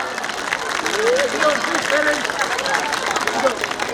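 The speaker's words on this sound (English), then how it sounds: "Give a huge round of applause for our teachers and admin staff." A school annual day audience in a hall applauds teachers and admin staff, a dense, steady wash of clapping and crowd noise with voices and cheering mixed in throughout.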